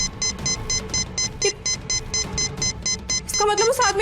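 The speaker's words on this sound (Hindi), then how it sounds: "भगवान, इसका टाइमर तो और तेज चलने लगा।" A bomb's countdown timer in a Hindi TV drama beeps in a rapid, regular electronic pattern, loud and close, with a voice breaking in near the end as the beeping continues.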